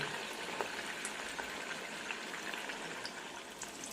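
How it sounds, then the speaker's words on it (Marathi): Chicken 65 pakodas deep frying in oil, a faint, even bubbling hiss with small crackles, steady throughout and with no voices. "हे आता असे तळून घ्यायचे"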